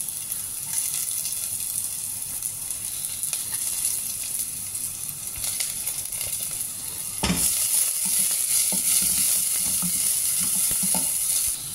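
Onions go into a pan with garlic already browning for mushroom soup, and the steady sizzle jumps louder and brighter as they hit the hot fat, with occasional stirring clatter.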